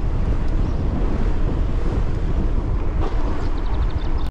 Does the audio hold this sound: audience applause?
no